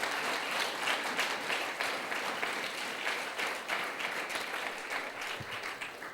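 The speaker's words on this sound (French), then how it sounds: "on va applaudir plutôt le Créateur Jésus-Christ" A large audience claps steadily in dense, sustained applause at a religious testimony gathering, loud and even throughout with no voices standing out.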